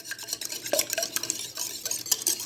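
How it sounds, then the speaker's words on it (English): Whisk beating two whole eggs and one egg yolk in a bowl, a steady run of quick, close clinking strokes with no talking. "I have 2 whole eggs and 1 egg yolk, and I'm going to give this a good whisk"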